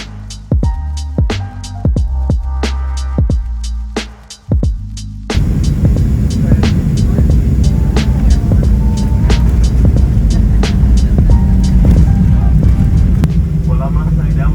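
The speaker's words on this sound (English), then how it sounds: "Well, I must say that was a terrific landing." A Southwest Airlines jet touches down and rolls out at Houston Hobby Airport at night. A steady, loud cabin roar and rumble of engines and wheels runs throughout, with sharp ticking clicks over it and talking at the start.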